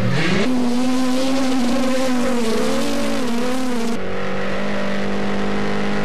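Four-cylinder TORC Pro Light off-road race trucks lap a dirt track, engines revving loud and close in a sustained, wavering drone that shifts pitch as one passes.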